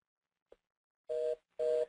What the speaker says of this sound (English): I just hit redial to make a call, and the phone is blocked